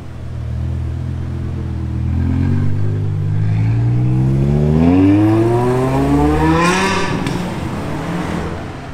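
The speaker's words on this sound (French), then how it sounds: "Le son du V10 sur la M6, c'était magnifique" The V10 engine of a BMW M6 revs at the Top Marques Monaco car show, a loud, close rumble whose pitch climbs through several rising sweeps before easing off, with no voices over it.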